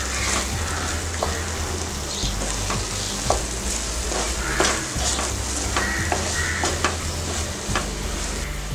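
Mushroom egg masala with coriander and salt stirred in a pan over low heat, a steady close sizzle and frying hiss with repeated scraping stir strokes throughout, no voices.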